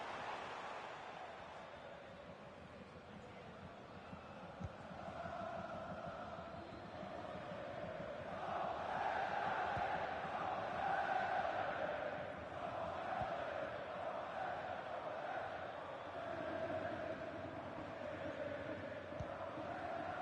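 Football crowd at a UDogs vs IM match, a broad sustained roar that swells in the middle and stays steady and distant throughout, with no clear voices standing out.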